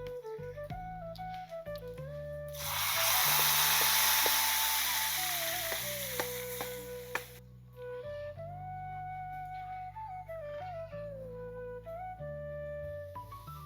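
A loud burst of sizzling hiss rises suddenly as hot tempering is poured into a mixed-vegetable dish, fading over a few seconds, with soft background music playing throughout.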